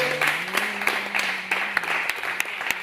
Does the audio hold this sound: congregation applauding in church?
yes